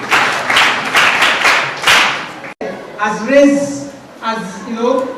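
Secondary school students in Ibesikpo clap together in a class session, a brisk burst of close hand claps that ends abruptly before people begin talking.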